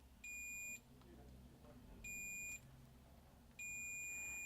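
Three evenly spaced high continuity beeps from a multimeter probing a ground connection on a Super Nintendo SNES circuit board. Each beep lasts about half a second and rings clearly over a quiet background.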